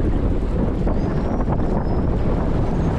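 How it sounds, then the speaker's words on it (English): Wind blowing hard at Bolsa Chica beach in Huntington Beach, a loud continuous microphone rumble with ocean wash mixed in, unbroken for the few seconds heard. "pretty windy out today"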